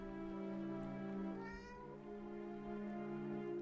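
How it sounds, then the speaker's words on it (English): A cat meows once in a video game set in an abandoned warehouse, the call rising briefly and clearly over a steady low, droning game soundtrack. "Oh, there is a cat."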